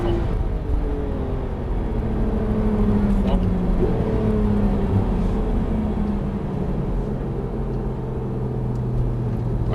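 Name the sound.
Porsche 991 GT3 RS accelerating and braking on track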